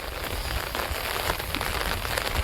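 Steady, dense rainfall patters down on a surface in a continuous, even hiss with no pauses or voices.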